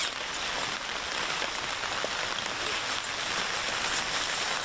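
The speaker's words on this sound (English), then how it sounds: "This tree was good shelter for the light rain, but I think it's starting to come in heavier." Rain comes down heavier on a tent, making a steady, even hiss of countless drops that fills the whole stretch without a break, close and constant with no voices.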